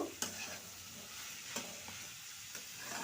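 Chicken liver being stirred and mixed in a hot pan for a Bengali-style dish, a soft steady sizzle with a few sharp spatula scrapes against the pan, close and quiet with no talk.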